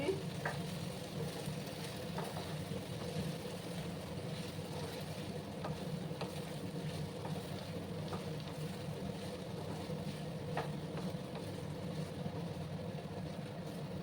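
Taro (arbi) chips being stirred in a frying pan, a steady close sizzle of hot oil with faint scraping clicks from the stirring running throughout, no talking.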